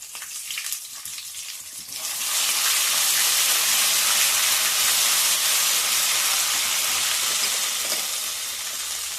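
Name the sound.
spices sizzling in hot oil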